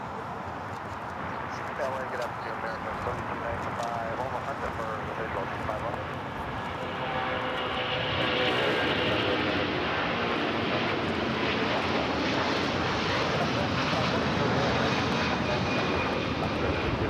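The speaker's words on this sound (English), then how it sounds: "What a beautiful takeoff with those puffy clouds" Jet airliner taking off at LAX, a loud steady engine roar that swells and holds throughout, with people talking over it.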